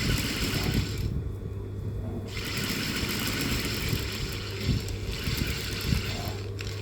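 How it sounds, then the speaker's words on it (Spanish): A sewing machine stitches a seam on shapewear, its motor running in a steady mechanical whir with a rapid needle rhythm, pausing briefly a couple of times before continuing, close up and alone. "voy a ir haciendo mi costura, cerrando ya esta parte"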